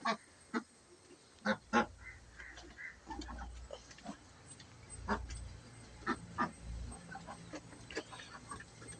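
Scattered duck quacks, some nearby and some farther off, over a quiet outdoor background with soft low rumbling.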